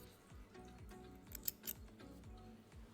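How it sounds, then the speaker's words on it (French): Scissors cutting knitting yarn after work on a knitting machine, a few soft, close snips against a faint background with light mechanical clicks, very quiet and without speech. "je prends le fil, je le coupe."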